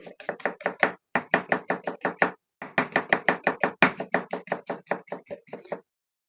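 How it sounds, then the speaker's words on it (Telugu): A knife slices onions thinly on a board in rapid, evenly spaced taps, close and crisp, in two long runs separated by a brief pause. "ఇలా మనము సన్నగా ఉల్లిపాయలు కట్ చేసుకున్నామండి"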